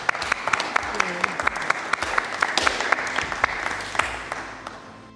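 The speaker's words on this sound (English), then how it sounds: "let's give our panelists a round of applause" Audience applauding podcast panelists at the close of a live international school music teaching session, steady dense clapping with sharp individual claps throughout, no voices over it.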